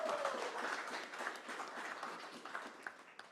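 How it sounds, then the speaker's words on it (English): Moderate, somewhat distant applause from attendees at a presidential press conference, a brief scattered patter of clapping that tapers off. "I think that deserves a regional round of applause."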